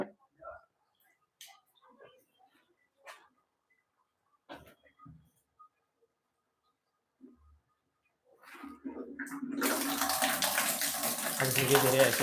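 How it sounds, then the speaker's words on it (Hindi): Water rushes out of a drained geyser (electric water heater) during a repair check for not heating. A few quiet knocks and movements come first, then a loud, steady gushing flow starts and keeps going. "अब धीरे-धीरे ऐसे ही पानी निकलता रहेगा"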